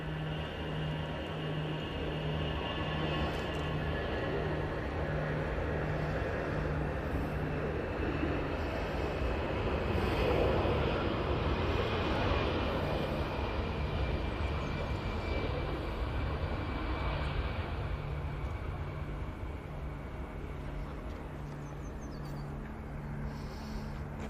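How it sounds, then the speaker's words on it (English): An easyJet airliner on its takeoff roll at Manchester Airport, bound for Malaga, gives a steady broad jet roar that swells toward the middle and holds loud and fairly near, with no talk over it. "EasyJet on the roll. It's off to Malaga."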